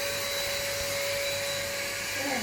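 An Aldi Ambiano cordless vacuum cleaner runs steadily with a constant high whine and airy hiss, close and even throughout, with no pause or change in motor pitch.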